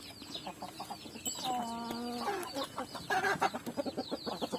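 Chickens cluck close by in a farmyard pen where a rooster chases and pecks a hen, with rapid repeated clucks, a drawn-out squawk in the middle and a burst of agitated calls toward the end.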